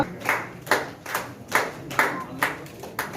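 Slow, rhythmic clapping at a commerce teachers' award ceremony in Kerala, about seven distinct claps spaced evenly and sounding near and fairly loud, with no talking.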